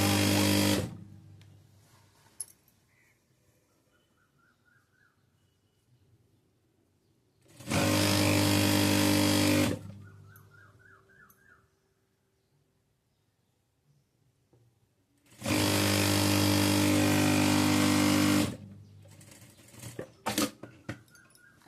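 A sewing machine stitches the side seam of a frock nighty in two loud, sustained bursts of rapid stitching. Quiet stretches between the bursts hold small clicks and handling noises.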